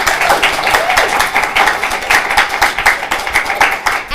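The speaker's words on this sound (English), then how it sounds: "So another round of applause," Audience applause after an exhibition presentation, loud dense clapping from a sizeable crowd, close and continuous throughout with individual claps audible in the mix.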